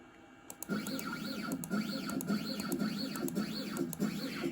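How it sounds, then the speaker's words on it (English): A CNC router's stepper motors jog the gantry across the bed toward the workpiece, giving a repeated rising and falling whine in evenly spaced strokes with soft clicks, moderately loud and steady throughout. "jog the machine over closer to where my workpiece is"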